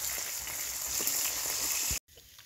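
Fish heads frying in hot oil in a pan, a dense, close hiss and crackle of sizzling with a few small pops that cuts off abruptly near the end, leaving a quieter sizzle, with no talk.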